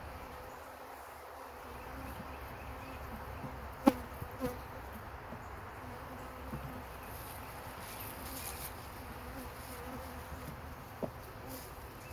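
Honey bees buzz continuously around an open beehive, a faint, even drone with a few brief clicks and knocks from handling the frames, no talking.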